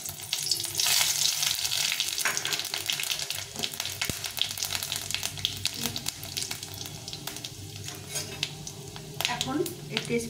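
Panch phoron with dried red chilli hitting hot oil in a pan, a loud continuous crackling sizzle up close, punctuated by utensil clinks and stirring scrapes, with faint talk at moments.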